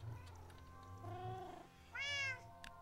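A cat in the video game Minecraft meows a couple of times, short tonal calls with a rising, wavering pitch over a quiet humming game background, fairly soft and close.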